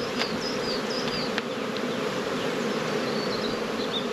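Dense, steady buzzing of many honeybees as frames of bees are shaken down into a nuc box while making nucs, a continuous close hum with brief sharper flicks of individual bees passing.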